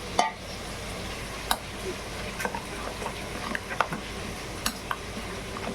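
Spice paste of ginger, garlic, onion, whole cumin, dried and green chilli and tomato sizzles and fries steadily in a pan, with scattered clinks and stirring scrapes over the even hiss.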